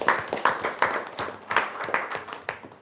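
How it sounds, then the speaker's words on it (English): A small group at a sales round-table session gives a brief round of applause for new attendees, sparse claps arriving in uneven bursts rather than a dense wall of sound, fairly close and moderately loud. "A round of applause."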